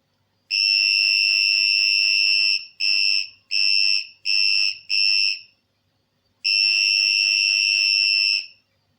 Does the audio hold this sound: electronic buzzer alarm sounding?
yes